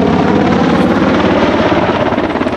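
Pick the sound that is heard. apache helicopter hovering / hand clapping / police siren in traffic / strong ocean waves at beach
apache helicopter hovering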